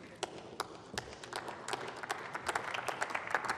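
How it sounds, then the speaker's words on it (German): Scattered applause in the German Bundestag during a budget debate rises from a few sparse claps into a denser patter of hands, moderately distant in a large chamber. "Und der Beifall kommt völlig zu Recht"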